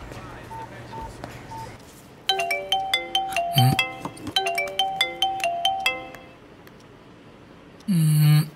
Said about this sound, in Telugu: ఒక్క నిమిషం ఉండు, కాన్ఫరెన్స్ కాల్ పెడతాను.